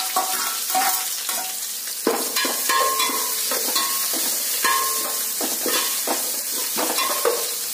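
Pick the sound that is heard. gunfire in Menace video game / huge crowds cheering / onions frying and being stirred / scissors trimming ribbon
onions frying and being stirred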